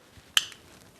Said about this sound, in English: as soon as I crack this beer